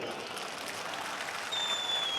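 Mushaira audience at a poetry gathering in Aurangabad claps together, a soft, even wash of many hands heard from a distance, with a faint voice and a thin tone coming in toward the end.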